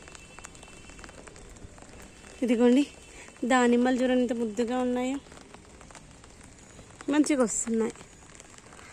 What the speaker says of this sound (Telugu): వర్షం స్టార్ట్ అయింది కదా